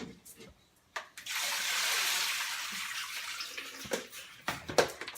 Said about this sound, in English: Rinse it out, let it sit.